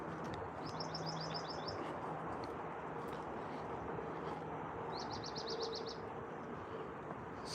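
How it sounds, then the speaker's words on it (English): A Wilson's warbler sings in a serpentine grassland park near a freeway, two short, rapid chattering trills a few seconds apart, faint and distant over a steady low traffic rumble. "There's one that sounds just like that. It's Wilson's warbler."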